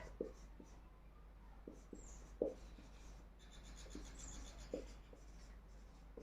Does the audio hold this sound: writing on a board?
yes